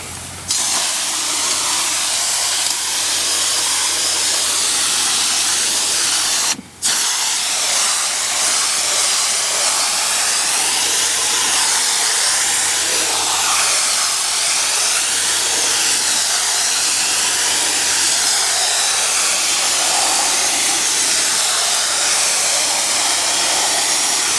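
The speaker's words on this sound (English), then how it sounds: "With these washable filters, I think you're supposed to blow them out from the back" Compressed air blasts steadily through a washable HVAC filter from the back, a loud, close, unbroken roaring hiss that cuts out for a split second and resumes for the rest of the stretch.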